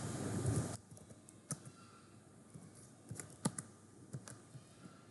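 Typing on a computer keyboard during an HTML5 web development lesson, a steady string of soft, close key clicks in irregular bursts after a brief louder noise at the start, with no talking over it.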